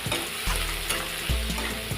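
Finely chopped onions frying with asafoetida in a pan over medium-high flame for kaddu kofta, with a constant bright sizzle and repeated low thumps and scrapes of a spoon stirring.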